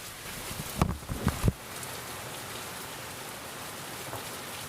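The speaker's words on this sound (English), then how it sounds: "Rainstorm." A rainstorm pours down as steady, dense hiss, with a few heavier close thumps near the start before settling into constant rain.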